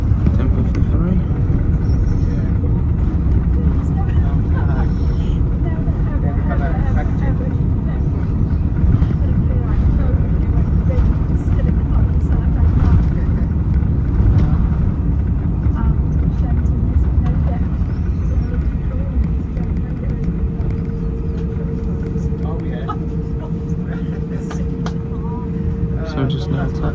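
Steady engine roar and rumble of an airliner taxiing toward Terminal 2 at Manchester Airport, a constant loud drone heard from inside the cabin with a faint rising tone near the end, no talk.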